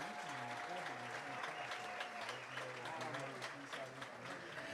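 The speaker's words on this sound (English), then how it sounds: "help me in applauding these fine young people representing Pulaski County High" A crowd in the stands at a Friday night high school football game between Corbin and Pulaski County applauds the homecoming candidates, giving steady, distant clapping that lasts the whole stretch while an announcer's voice echoes faintly underneath.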